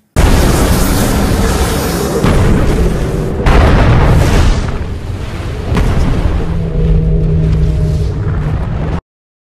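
A loud, sustained explosion in the film Wrath of the Titans roars with heavy booming and crackling debris, rolling on for several seconds before cutting off abruptly.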